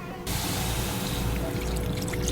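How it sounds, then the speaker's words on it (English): About 300 cc of water poured into a pan of mushrooms, bacon and garlic: a sudden, steady rushing splash begins a moment in and continues close and fairly loud to the end. "You will put 300 cc of water inside."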